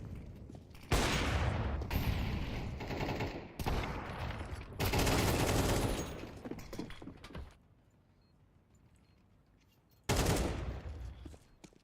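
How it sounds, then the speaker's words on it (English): Pistol and MP9 gunfire in a competitive tactical shooter match, heard as loud bursts of rapid shots and fusillades in several clusters, with a quieter lull before another sharp burst near the end. "Here comes the pistols and MP9s."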